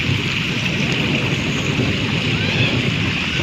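Heavy rain in a village, a steady loud wash of falling water and wind-like noise filling the whole moment, with nobody clearly speaking.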